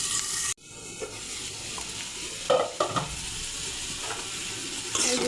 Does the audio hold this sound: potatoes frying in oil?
yes